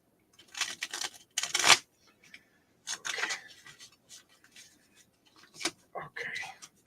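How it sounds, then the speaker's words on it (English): A large deck of board game cards being shuffled, with a few separate bursts of riffling and sliding close by, mixed with faint talk. "I'll give it a shuffle because I saw the card."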